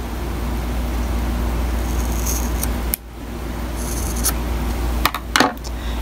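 Scissors snipping the thread end of a candy stripe friendship bracelet, a few quick close cuts over a steady background hiss.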